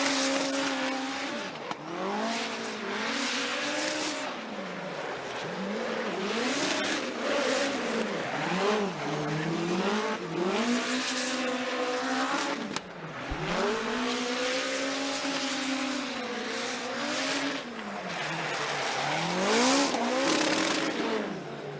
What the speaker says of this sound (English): let's just listen to this 4-cylinder turbo nitrous powered hot hatchback of Ryan Turk.